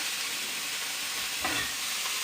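Steady broadband hiss of meat for homemade shawarma sizzling in a frying pan, with a brief soft clatter midway; no voices.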